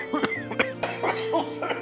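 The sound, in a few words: cough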